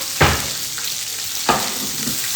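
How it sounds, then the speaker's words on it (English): Butter hitting a hot frying pan gives a steady crackling sizzle, with two sharper bursts as it spreads, in a home kitchen while asparagus and capers are being prepared. "It's going to make a lovely sizzle."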